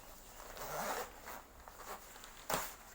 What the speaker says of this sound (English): it is a chunky style zip. Again, not a two-way zipper, just a one-way zipper.